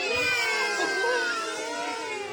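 Several voices together imitate a cat's meow, a drawn-out wavering call sung in unison, fairly loud and close.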